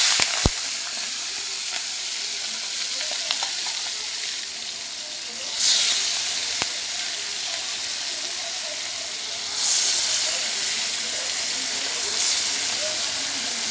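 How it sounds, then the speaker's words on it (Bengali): Fish frying in hot oil seasoned with salt and turmeric, a steady hissing sizzle with a few sharp pops and periodic louder swells of spattering, no talking. "মাছগুলো ভেজে নেব"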